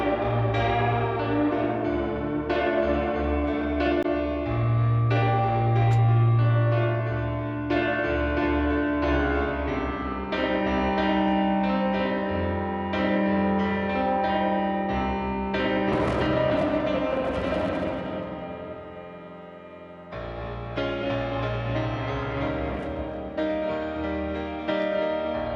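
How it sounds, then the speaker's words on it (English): Heavy reverb and echo from a Valhalla VintageVerb plugin wash over a sustained, layered synth-like mix, with the tail swelling when the size setting is pushed to full, briefly dropping out and then returning, no talk. "You can hear some obvious echo when I go full."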